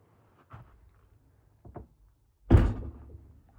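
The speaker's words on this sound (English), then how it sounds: "close the door." A cargo trailer door on a 7x14 converted trailer swings shut with one loud, close thunk, preceded by a couple of faint soft knocks and rattles in a quiet interior.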